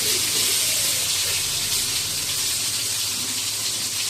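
Potatoes fry in hot oil in a home kitchen while biryani is being cooked, giving off a steady, loud broadband sizzle that continues without a break from start to finish.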